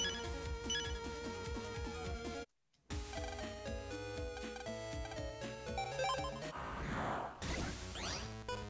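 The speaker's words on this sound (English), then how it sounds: "Make the ringing stop, please." A repeating electronic phone ring from the Mega Man Battle Network game on Game Boy Advance plays loudly over busy game music and sound effects, cut by a brief dropout, with no talking.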